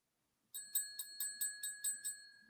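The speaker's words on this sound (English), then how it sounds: "I got my dinner bell right here" A small hand-rung dinner bell gives eight quick, bright dings in an even rhythm, close and clear over an otherwise quiet room.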